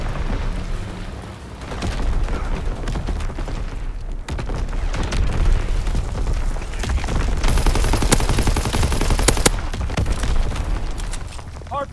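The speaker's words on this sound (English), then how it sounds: "Incoming enemy artillery." Incoming enemy artillery in Call of Duty WWII multiplayer, a dense, loud stretch of booming blasts and rattling gunfire that carries on throughout, with game voice callouts mixed in.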